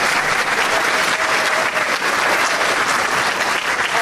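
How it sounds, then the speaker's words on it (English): Loud, dense applause from residents at a Wasaga Beach Chamber of Commerce candidates' meeting honours the moderator, continuous close clapping throughout the four seconds with no voices on top. "A big round of applause for John."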